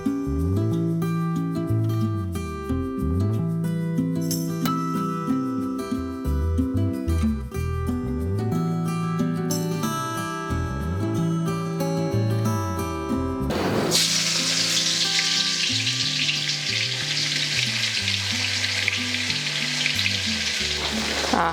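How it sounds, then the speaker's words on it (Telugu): Cooking oil poured into a pan for a sweet-shop-style mixture snack, with a steady frying sizzle throughout, loud and close, turning into a broad hiss in the later part, with no talk. "ఆయిల్ పోసుకుందాం."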